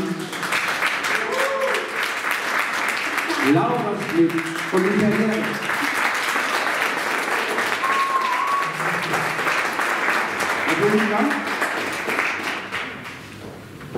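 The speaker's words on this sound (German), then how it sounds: "Bitte einen großen Applaus für Dagmar Bittner" An audience at a live radio play performance applauds loudly and continuously, dense clapping filling the room while a voice announces names over it.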